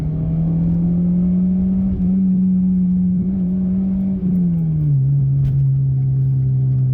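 Engine-swapped Ford car driving on a B-road, its engine droning loud and steady near the cabin while gears are cycled, the pitch dipping briefly at each smooth shift with no talk.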